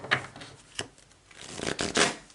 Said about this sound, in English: these are not shuffling well